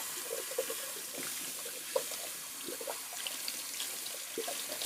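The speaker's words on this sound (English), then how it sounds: "Just rinsing out the brush real quick." A shaving brush is rinsed under a running tap at a sink, with a steady hiss of flowing water and irregular splashes and sloshes as the bristles move through the stream.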